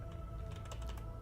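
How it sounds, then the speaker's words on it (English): Typing on a computer keyboard, a quick run of light clicking keystrokes over a faint steady hum, quiet and close. "I like typing."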